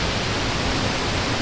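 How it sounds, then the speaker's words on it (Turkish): Alaviçi Waterfall roars as a steady, dense broadband rush of falling water, loud and continuous throughout with no voices over it. "Burası da çok güzel bir şelale gerçekten."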